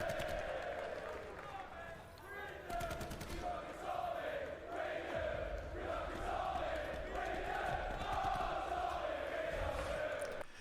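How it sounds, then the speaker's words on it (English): A large esports arena crowd chants at an Overwatch match, a rhythmic roar of many voices filling the hall with steady, loud energy. "These are all pretty standard chants, right?"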